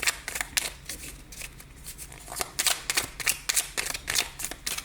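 Oracle cards from the 77 d'Alias Kay deck being shuffled and dealt into a nine-card spread, with crisp papery flicks and snaps in quick irregular bursts, close up and without any talk.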